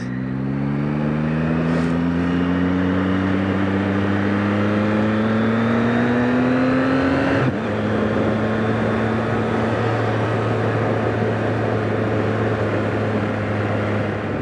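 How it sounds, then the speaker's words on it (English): A 2024 Yamaha MT-09 motorcycle engine purring along in 3rd gear at about 30 mph through a village, a steady, even drone with a brief dip in the middle, no voices. "A bit of in-town village riding, 30 miles an hour, 3rd gear, engine still purring along."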